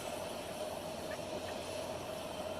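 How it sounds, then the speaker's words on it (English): A train rolls past at a steady rumble with a faint hiss and some wheel noise, moderately distant, while the speaker pauses and no talking is heard. "we're going to let that train go by."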